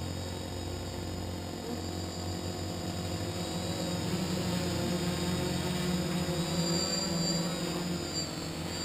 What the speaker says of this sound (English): So the motors are staying on because I'm still at a throttle position